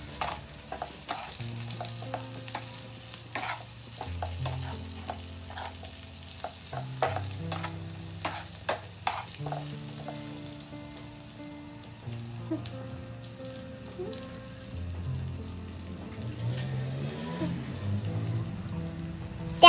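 Stuffed brinjals sauté with onions in a pan, giving a soft, steady sizzle broken by frequent light stirring clicks and scrapes, with music playing quietly underneath.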